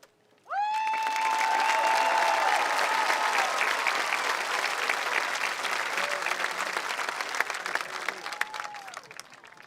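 Sustained, loud applause from a graduation commencement audience swells quickly and fills the space, dense clapping with a few cheers, slowly thinning toward the end.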